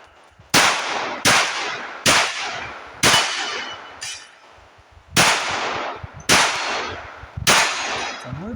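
Glock 30 Gen 5 pistol firing .45 ACP rounds at a shooting range, eight loud, sharp shots spaced about a second apart, with a short pause after the fourth, each followed by a brief decaying ring.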